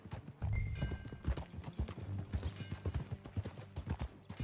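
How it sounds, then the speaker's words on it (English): Horse hooves clip-clop at a steady riding pace in Red Dead Redemption 2, close and clear, with a brief whinny and faint game ambience; no one speaks. "That a new horse?"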